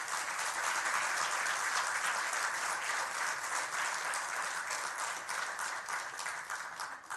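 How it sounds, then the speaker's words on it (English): Parents and guests at a Baldwin Park city council meeting give sustained, dense applause that holds at a steady loud level for several seconds before easing slightly at the end. "So give yourself a round of applause for being great parents."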